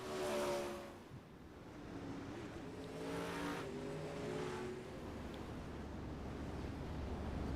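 Several 360 sprint cars circle the Port Royal speedway under a yellow caution, engines droning loud and steady with rises and falls as cars pass, easing to a lower rumble near the end.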